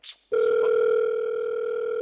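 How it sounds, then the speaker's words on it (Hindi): A phone rings with a steady, loud electronic tone that holds unbroken for nearly two seconds. A short burst of sound comes just before it, and there is no talk over the ring. "सर आपका फोन आ रहा है।"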